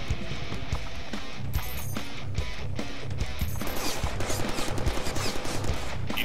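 Gunfire in the Deadpool video game, dense rapid bursts over a low rumbling game soundtrack, turning into a fast pulsing automatic stream toward the end.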